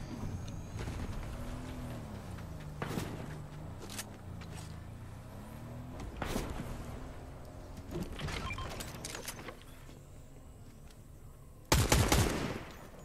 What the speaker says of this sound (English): They're sniping behind us.